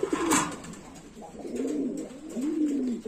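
Lahori pigeons of several color varieties in a loft in Cumilla, Bangladesh, give soft, low, rolling coos in repeated phrases, close and clear, with a brief brighter flutter of noise near the start.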